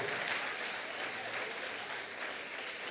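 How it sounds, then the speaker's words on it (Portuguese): A church congregation claps together for the Lord, a dense, sustained wash of applause held at an even level for about three seconds, with no talk. "Dê um aplauso ao Senhor."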